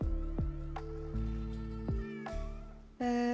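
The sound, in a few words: cat meowing while being petted, from a video game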